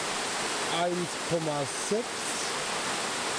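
The Allerheiligen waterfalls roar in a constant, loud broadband rush of falling water, while someone speaks briefly over the noise.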